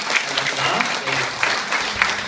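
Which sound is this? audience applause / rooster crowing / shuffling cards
audience applause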